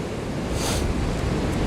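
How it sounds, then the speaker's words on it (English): Strong wind buffets a beach with surf breaking nearby, a steady roaring wash of waves and gusty microphone wind noise filling the whole stretch with no speech, on a cold day before a storm. "It's definitely windy, but it's tolerable."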